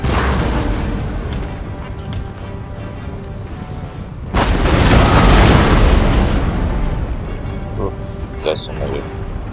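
Artillery fire in the Total War: Empire strategy game, heavy booming cannon blasts rolling over a continuous battle din, with a big sustained barrage midway and scattered pops later.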